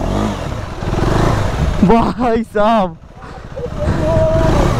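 A KTM Adventure 390 motorcycle revs hard at full throttle on an off-road track, its engine rising and falling in a few loud surges, with someone talking over the noise before and after.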